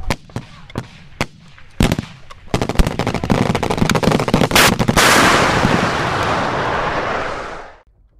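Rapid gunfire in a military video game, sharp single shots that build into dense automatic bursts, then merge into a loud continuous roar before cutting off.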